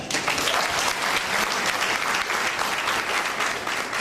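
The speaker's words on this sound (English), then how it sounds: "Clap it up." An audience claps at a school speech at Excel Academy, a dense, sustained round of applause from a crowd, loud and even throughout with no talking over it.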